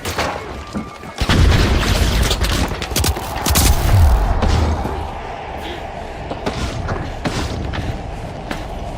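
Frag grenade blast in the video game The Finals, a heavy boom and slamming impacts around the middle, followed by scattered gunfire and thuds, with faint voices underneath.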